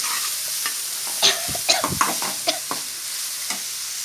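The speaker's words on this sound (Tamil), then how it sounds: "இப்போ வந்து வதங்கிட்டு இருக்கு. பாக்கி இருக்கிற வெங்காயத்தையும் கொட்டிட்டோம் வலிச்சு. நல்லா மிக்ஸ் பண்ணி விட்டுக்கலாம்." Onions sauté in a pan for ragi rotti while a spoon stirs and scrapes through them, giving a few distinct close scrapes over a soft, steady sizzle.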